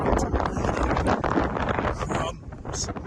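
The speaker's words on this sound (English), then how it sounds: "the wind's picking up" Strong wind buffeting the microphone outdoors beside an Astra van, a steady roaring rush that swells and eases, loud and close, with no clear speech.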